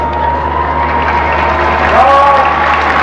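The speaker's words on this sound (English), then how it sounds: "Now hear the crowd roar as they step onto the shore following Stephen Hall's announcement of their presence." Crowd roaring and applauding as the Prince and Princess of Wales step ashore at the landing steps during Australia Day 1988 celebrations, a steady broad wash of cheering and clapping with a faint tone running underneath.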